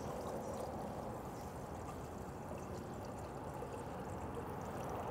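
Warm water around 110 to 115 degrees Fahrenheit poured steadily into a bowl for pizza dough, a continuous close splashing stream lasting the whole stretch with no talk.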